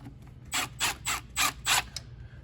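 A 7mm ratchet loosens a small hose clamp on the cold air intake of a 2006 Saturn Ion Redline, giving five quick clicking bursts in an even rhythm, close up and fairly quiet.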